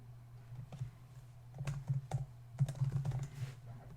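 Keys clatter in irregular bursts of typing on a computer keyboard, close and fairly soft, over a steady low hum.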